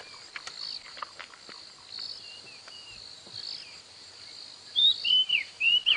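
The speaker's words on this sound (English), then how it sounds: "I can just hear white-browed scrub robin calling very close to us" White-browed scrub robin calling close by at dawn on a safari drive, thin high whistled phrases rising near the end over a steady bed of crickets and insects, with scattered distant chirps.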